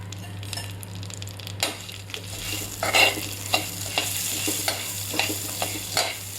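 A spoon stirs salt into melted butter for makhana chaat in a hot pan, light sizzling under a series of close metallic scrapes and taps at an irregular rhythm.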